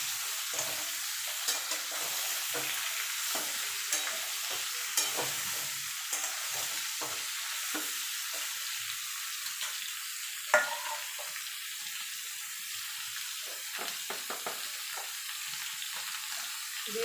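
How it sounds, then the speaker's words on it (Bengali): Ridge gourd and prawns fry over a high flame as a spoon stirs them in the pan, giving a soft steady sizzle broken by occasional scraping clinks, fairly quiet and with no talking. "এবার নেড়ে দেবো।"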